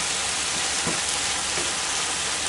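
Ground venison frying in a pan for a stew, a loud, steady, close sizzle that fills the whole stretch without a pause.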